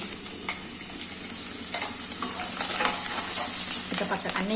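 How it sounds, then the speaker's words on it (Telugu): Onions and fenugreek leaves fry in a pan with a steady bright sizzle, while scattered stirring scrapes and clicks come through up close. No one speaks. "ముందుగా ఎల్లిపాయలు మెందం కూర ఫస్ట్ వేయించుకుందామండి"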